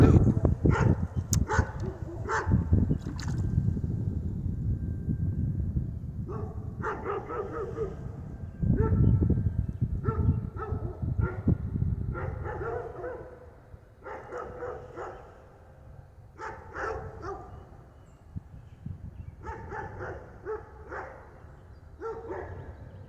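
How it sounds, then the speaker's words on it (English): Several dogs bark and yip in repeated bursts beside a drainage ditch during a fishing outing, moderately near and loud over a low rumbling background, with some whimpering between volleys. "I think those dogs are like, hey, will you bring me something to eat?"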